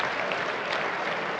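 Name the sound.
darts crowd applauding a double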